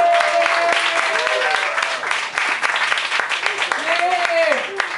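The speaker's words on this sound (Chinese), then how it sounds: "我们一起给最热烈的掌声。" Audience applause after a Mandarin stand-up comedy routine: a steady round of clapping from a crowd, heard close, with a host speaking over it.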